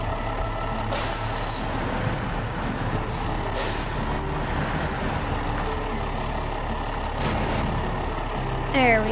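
Reversing beeps from a 6x6 truck in the video game SnowRunner sound over a steady, loud engine rumble, with hissing air-brake bursts mixed in across the clip.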